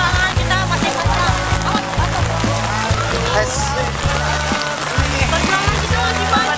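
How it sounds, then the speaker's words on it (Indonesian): Steady rain falls over a crowd of Persija Jakarta football supporters, a continuous wash of patter mixed with murmuring voices and movement that stays loud and even throughout. "Tuh hujan-hujanan."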